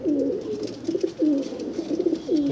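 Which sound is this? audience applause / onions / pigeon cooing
pigeon cooing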